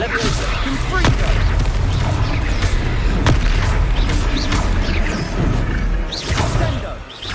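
Spell explosions in the Hogwarts Legacy video game during a boss fight: repeated booming blasts and whooshes in dense, loud layers, with a sharp crack near the middle and a swelling burst toward the end, under continuous game noise and voices.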